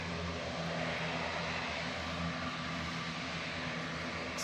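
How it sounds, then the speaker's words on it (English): A noisy ATR turboprop airliner descends to land on Victor Alpha at Manchester Airport, a steady broadband roar with droning propeller tones, fairly close and unbroken throughout. "the noisy Orini ATR is coming down in front of us on Victor Alpha"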